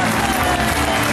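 An audience applauds with dense, steady clapping at the opening of an international folklore festival in Karlovac, close and loud throughout the short burst.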